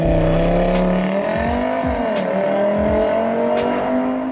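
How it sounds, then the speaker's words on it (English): A car with factory fuel-cut two-step launch control holds its engine at a steady RPM, producing a continuous, loud, even drone without pops or bangs, sustained throughout with slight wavering pitch. "The more commonly used one by cars with factory two-step is to cut fuel to the engine."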